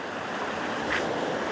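A small waterfall on the Lurg Burn, a mountain stream, rushes in a steady, even wash of water noise with no voices.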